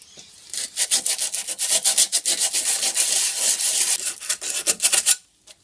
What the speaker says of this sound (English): Now I'm going to hit it with a bit of 80 grit